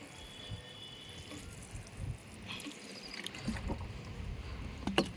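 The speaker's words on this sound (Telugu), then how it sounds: "ఈ మెంతులకు కూడా వాటర్ ఇట్లా పోసుకోవాలండి" Water splashes and trickles steadily onto soil in a pot of fenugreek outdoors, a soft continuous pour with a few sharper drips near the end.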